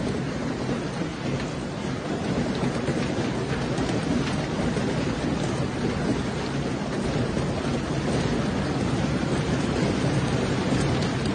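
Heavy rain from a severe Texas thunderstorm pours steadily and densely throughout, with low rumbling thunder rolling beneath it; no voices, just a constant loud storm wash.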